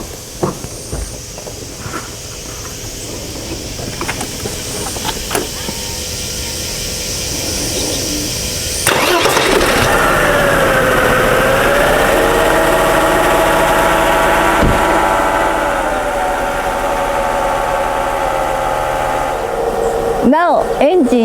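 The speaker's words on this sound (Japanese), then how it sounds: "このクーリングファンがエンジンを始動して勢いよく回っていれば大丈夫です。" A Mercedes-Benz W124 engine cranks and starts, then runs with its radiator cooling fan spinning hard in a loud, steady whirring roar that slowly settles, after quieter mechanical ticking and knocks beforehand.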